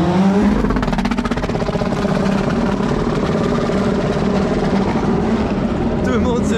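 A Lamborghini Essenza SCV12 V12 race car roars loudly past on a racing circuit, a dense, sustained engine blare that fills the whole clip and fades slightly at the end, with a voice talking underneath.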